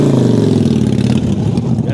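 A Harley-Davidson Sportster 48 motorcycle idles and revs up close, with a steady, loud, deep rumbling throb across the whole stretch and no talking over it.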